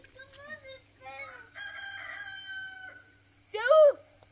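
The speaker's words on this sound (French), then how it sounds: "Les poules sont là-bas, allez les voir." Chickens cluck and a rooster crows near the end, a strong harmonic call that stands out above children and adults chattering on a holiday farm.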